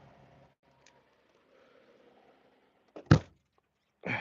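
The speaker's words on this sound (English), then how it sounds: "I gotta close this door." A door is shut with a single sharp thunk after some faint handling noise, followed by another softer knock at the end, close and otherwise quiet.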